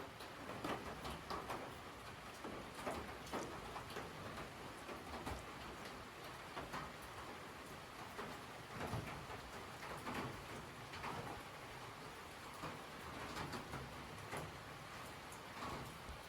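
Steady rain falls on a muddy, slippery, rooty and rocky stretch of the Appalachian Trail in North Carolina and Tennessee, a dense continuous hiss with sharper drop patters throughout and no talking.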